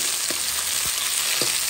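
Courgettes and shrimp sauté in a hot pan, giving a steady, loud sizzle with a few soft stirring scrapes spaced through it. Nobody speaks.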